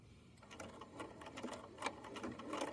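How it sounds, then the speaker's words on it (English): Sewing machine stitching a back stitch along the bottom panel of a fanny pack, a quiet run of rapid mechanical needle clatter with uneven bursts and pauses, close by with no talking. "So I'll go ahead and back stitch first"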